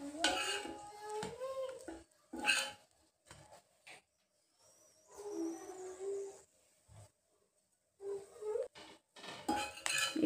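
Pav bhaji is flipped and fried in a pan, with close spatula scrapes, clinks against the metal and soft sizzling in short, irregular bursts separated by quiet gaps.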